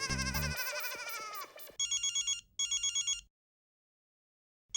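A telephone rings in a sitcom household: a bright electronic ringtone in repeated trilling bursts, preceded by a brief musical sting, then two clear ring cycles before it cuts to silence. Nobody speaks.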